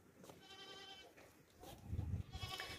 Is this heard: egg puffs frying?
no